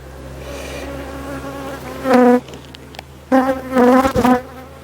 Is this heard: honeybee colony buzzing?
yes